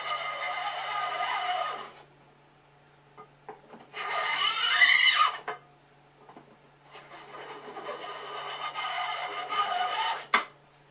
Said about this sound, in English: Now we're going to use a scoop coater. Get the excess stuff.